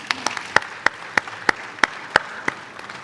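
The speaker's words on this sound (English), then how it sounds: "I think deserves a round of applause for that." Conference audience at a summit main hall applauding, with sparse, distinct hand claps in an uneven rhythm at moderate distance rather than a dense ovation.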